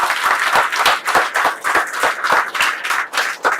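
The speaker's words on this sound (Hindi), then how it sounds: "अगर समझ में आ रहा है तो एक बार जरा अपने लिए जबरदस्त तालियां बजाइए।" An audience at a Family Fun Club presentation claps together in a loose, rhythmic pattern, loud bursts of applause pulsing at a steady pace throughout.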